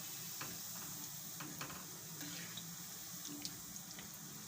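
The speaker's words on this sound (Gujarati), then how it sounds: "તો આપણે ગોલ્ડન બ્રાઉન થાય ત્યાં લગી આપણે આને સડવા દેવાના ધીમા ગેસે" Cashews frying slowly in a pan over a low gas flame, a faint steady sizzle with small scattered pops and crackles, close and quiet, no talking.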